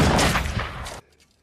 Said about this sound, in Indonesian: Dengan cepat Mick langsung mengeluarkan senjatanya dan langsung membunuh Katarina.